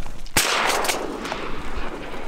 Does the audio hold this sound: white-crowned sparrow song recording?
no